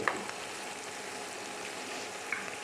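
Anchovies fry in a pan in hot oil, a steady even sizzle held close and continuous with a couple of faint pops.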